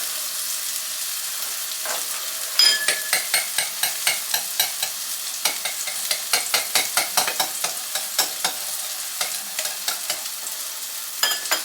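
Sausage frying on a stovetop for a breakfast biscuit sandwich gives a steady close sizzle, broken by a quick run of sharp pops and crackles in a loose rhythm, with no talking.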